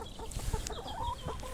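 Chickens on a chicken farm cluck close by as they are let out for breakfast, a busy mix of soft clucks and calls over faint background noise, with no talking.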